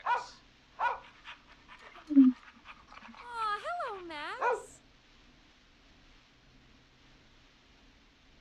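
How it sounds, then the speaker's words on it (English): A dog in the video game Killer Frequency gives a couple of sharp barks, then a rising, wavering whimper that trails off, with a person's voice speaking briefly over the sounds. "Hey, speaking of dogs, my dog just came in"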